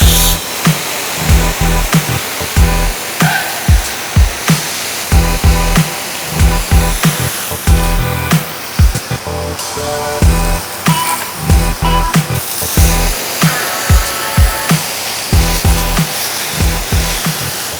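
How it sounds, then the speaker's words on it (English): A budget pressure washing gun sprays water in loud, hissing bursts, pulsing on and off repeatedly as the trigger is worked, with a steady roaring rush behind it. "Let me show you guys why this is my favorite pressure washing gun"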